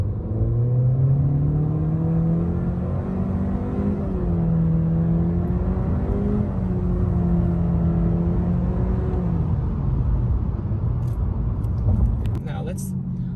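A Honda Accord Sport car accelerates hard, its engine droning with rising and falling pitch as it climbs through gears, loud and steady from inside the cabin, with people talking over it.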